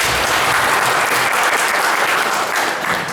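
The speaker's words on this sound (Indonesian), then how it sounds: "Kita aplaus pada semuanya." An audience applauds at a Lesbumi PCNU Kabupaten Malang working meeting, loud, dense and continuous clapping from a large crowd that holds steady and eases slightly at the end.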